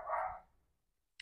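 A dog on a village walk gives one short, fairly faint bark, followed by near silence and a tiny high click at the end.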